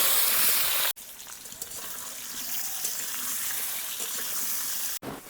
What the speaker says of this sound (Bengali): এবার সেদ্ধ করে রাখা ওল আর আলু একসঙ্গে ভেজে নেব।